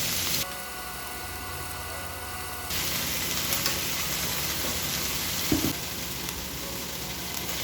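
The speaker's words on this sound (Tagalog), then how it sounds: "Itotostado ko siya ng bahagya sa mantika kasama ng bawang at sili na may kaunting sibuyas." Pork and fatty bits frying in oil with garlic, chili and onion for pork adobo give a steady, close sizzle that crackles and hisses without pause, with no voices.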